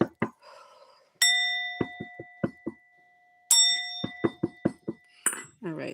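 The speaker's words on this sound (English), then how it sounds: "Let me ring the bell." A bell rings three times, each a bright, sustained metallic strike that fades slowly, with sharp claps or taps and a voice between the rings.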